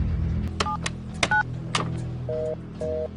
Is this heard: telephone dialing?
yes